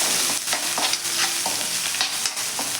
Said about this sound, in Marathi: कांदा आपण छान असा 1 मिनिटभर असा भाजून घेऊयात